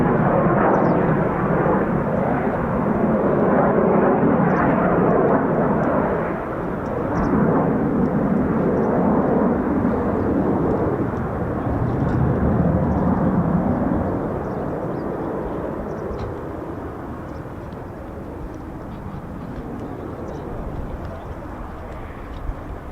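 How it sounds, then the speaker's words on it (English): Two F-15 fighter jets returning to RAF Lakenheath air base make a broad, sustained engine roar that stays loud and steady, easing slightly toward the end with no speech over it. "We've got 2 returning F-15s."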